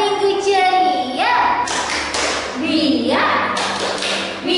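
Children clapping a rhythmic clap chant at a Sunday children's gathering, sharp thudding claps in short patterned bursts alternating with chanted voices, close and loud.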